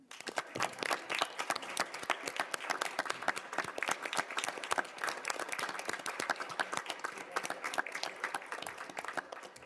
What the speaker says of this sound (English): I would like to give all of our third grade math teachers and our biology teachers a standing round of applause